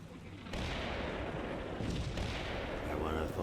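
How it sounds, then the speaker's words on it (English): Rolling 105mm artillery fire booms continuously in the Combat Mission Cold War wargame, a dense, loud, sustained rumble of overlapping blasts with no pause. "Our 105mm artillery helps keep Blue Force heads down while we try for firepower superiority."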